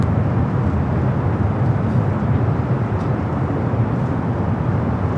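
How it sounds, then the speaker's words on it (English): An Air France Boeing 777 on Flight 24 from Paris arriving at Los Angeles LAX: a loud, steady low jet roar with a broad rushing hiss, constant from start to finish, with no one talking. "Air France Flight 24 coming up from Paris, 777 at 300 yard following a southwest."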